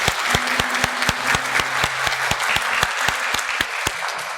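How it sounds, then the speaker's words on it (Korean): A church congregation at a Sunday worship service applauds the choir conductor. The clapping is steady and sustained, filling the sanctuary evenly throughout, with no speech over it. "우리 한번 감사와 격려로 박수 한번"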